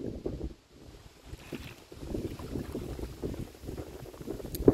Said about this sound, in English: it's pretty windy out here now that you get out of the trees